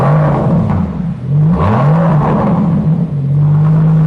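A Rolls-Royce 12-cylinder 6.7-litre, 650-horsepower engine revs in short rising and falling bursts, a smooth low hum swelling and dropping several times, close and loud with no talk over it.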